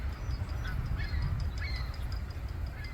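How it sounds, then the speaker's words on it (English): Ducks call repeatedly through a steady outdoor background on a March night under a full moon on Long Island, with other birds active overhead; the calls are moderate in level and scattered across the whole stretch. "Lots of activity in the sky. Little duckies."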